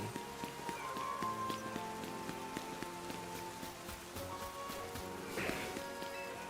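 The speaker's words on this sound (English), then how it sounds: "Let's get rid of this rain." Steady rain falls in the Pokemon Legends Z-A video game, a continuous even patter of drops on surfaces with faint game tones underneath, close and moderately quiet throughout.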